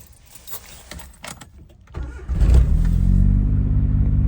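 A Suzuki Alto Works with a loose keychain starts with a brief jangle of keys and small clicks, then its engine rumbles up loudly nearby and holds a steady idle-to-pull-away drone.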